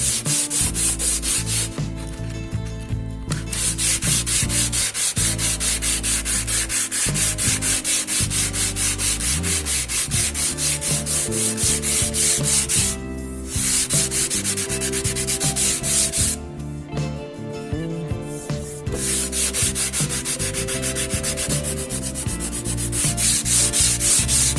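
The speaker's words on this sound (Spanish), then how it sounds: "vamos a lijar al hilo" Sanding wood along the grain over a hammer-dent repair, long rasping strokes back and forth that are loud and close, with brief pauses between passes and no talking.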